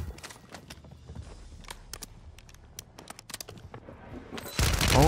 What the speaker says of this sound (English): Why is this guy shooting at me?